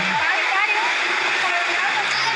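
Loud, continuous rushing water of the Takapala waterfall near Malino, Gowa, South Sulawesi, a broad steady roar, with a brief low voice-like sound at the start.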